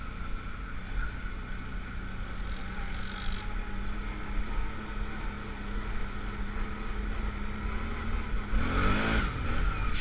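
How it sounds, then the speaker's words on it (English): An ATV engine drones steadily and close with the throttle feathered, pitch wavering slightly and rising briefly near the end, with no talking. "I'm just feathering this throttle."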